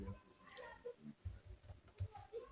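Quiet, close typing on a computer keyboard: a quick, uneven run of soft key clicks and taps over a couple of seconds, with no talk.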